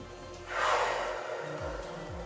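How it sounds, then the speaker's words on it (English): One deep inhale and a long exhale during a postnatal recovery workout, close to the mic, a single slow breath cycle with no speech. "So we're going to inhale, and then on the exhale, remember you're breathing everything up and in."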